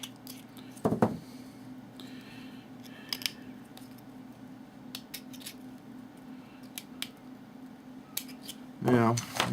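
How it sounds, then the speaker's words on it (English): A hobby knife scrapes and shaves plastic flash off a model part of the Matt Chapman Eagle 580 car kit, giving soft intermittent scratchy cuts over a low steady hum, with a couple of louder clunks. "Now I'm going to trim the flash off of this with my knife."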